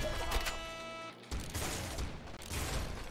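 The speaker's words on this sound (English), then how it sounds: "We got a splinter bomb as well" A splinter bomb weapon fires in the top-down shooter Nuclear Throne, a dense burst of crackling explosive shots with a brief drop before more blasts, loud and continuous over game music.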